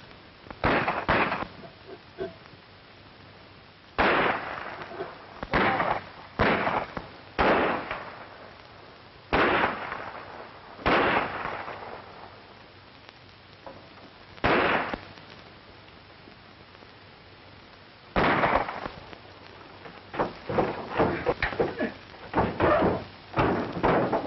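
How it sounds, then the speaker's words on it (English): Gunfire in a western shootout, sharp separate shots cracking out at irregular intervals, some single and some in quick clusters, close and loud with quieter gaps between. "Don't shoot! It's Clay"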